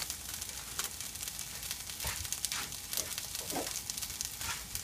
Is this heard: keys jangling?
no